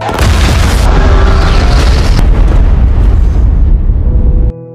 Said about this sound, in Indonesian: Ledakan besar yang bikin langit malam makin mencekam.